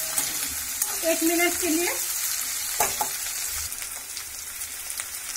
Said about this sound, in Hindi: अभी इसे हल्का फ्राई करते हैं